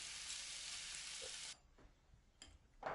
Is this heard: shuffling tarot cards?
no